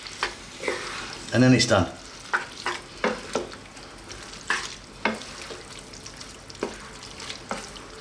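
Cooked spaghetti is tossed in a hot pan with two spoons alongside garlic, pesto and cream, giving repeated soft scrapes and clinks over a low sizzle, with a brief spoken remark near the start.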